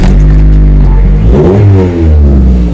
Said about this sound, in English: That is a good engine.